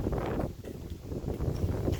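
Strong, cold wind gusts outdoors in a home vegetable garden, a continuous low rumbling roar buffeting the microphone, swelling and easing without pause.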